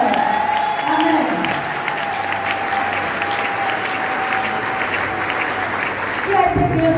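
A church congregation at a charismatic convention applauds together in a sustained, dense wave of clapping that fills the room, with a voice carrying over it near the end.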